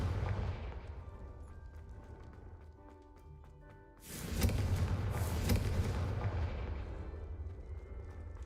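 A fiery Confringo blasting spell bursts loudly in Hogwarts Legacy, a sudden booming explosion after a quieter stretch of battle ambience, followed by a sustained roaring rumble.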